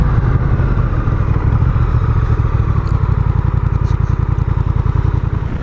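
A Honda Rebel 1100 DCT motorcycle's engine runs close and loud as the bike is turned around, a steady throb that settles into a rapid, even pulsing idle toward the end.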